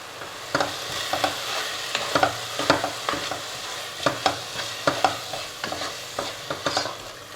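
Tomato masala fries in a pan as chili powder and biryani masala are stirred in for chicken biryani, a soft sizzle broken by repeated rhythmic scrapes of a spoon against the pan.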